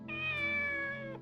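A single drawn-out cat meow from Shenmue, clear and close, rising then falling over about a second.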